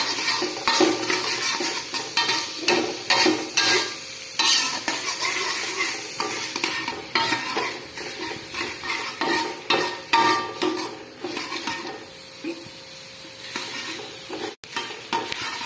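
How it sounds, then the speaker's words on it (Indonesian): Chopped onions are sautéed in a pan for potato croquettes, with a continuous sizzle under rhythmic, repeated scraping and stirring strokes of a utensil, close and fairly loud. "Jadi kita aduk-aduk seperti ini sampai akhirnya nanti si bawang bombay ini teksturnya bisa lembek."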